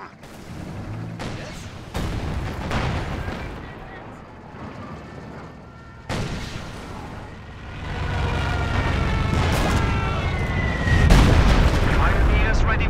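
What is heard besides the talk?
Stuka dive bombing attack in Company of Heroes 2 video game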